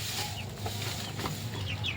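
Chickens clucking in a farm shed of grown birds, a steady busy hum of close clucks and murmurs running without pause over a noisy background.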